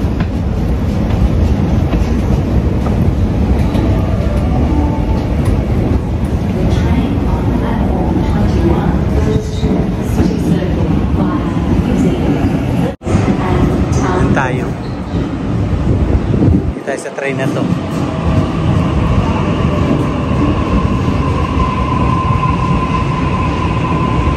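A train passing along a street in Sydney, Australia, a loud, sustained rumbling roar with rail noise that holds steady throughout, close by, with faint voices underneath.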